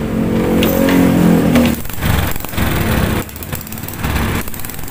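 A Honda Grand motorcycle engine running: a loud, close, steady small-engine drone with a buzzy hum, the note dipping and pulsing in uneven surges as it idles.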